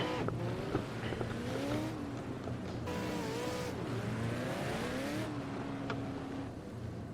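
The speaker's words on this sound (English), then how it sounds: "We can hear some cars moving." Several V8 Supercars in the video game Project Cars 2 drive steadily at Ruapuna Park, with whining, shifting engine tones and occasional tire noise, a continuous mechanical roar across the whole stretch.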